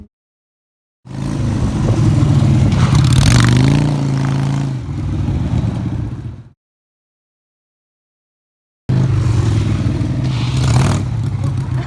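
A Harley motorcycle engine revs loudly through a drift, its throttle swelling and falling in two long bursts separated by a sudden stretch of silence, heard up close.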